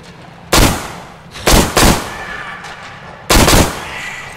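Gunfire in the video game Metro Exodus: four loud, sharp shots in uneven spacing, two of them close together, each with a short ringing tail.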